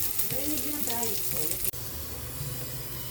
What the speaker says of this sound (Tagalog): Magigisa na po tayo bawang para sa ating ginataang kalabasa na may ito at saka alimango.